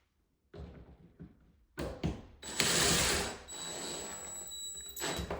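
A screwdriver tightens screws on a Kwikset Halifax LED door handle being installed on a door, with brief mechanical whirring and ratcheting bursts heard close up after a quiet start, no talking.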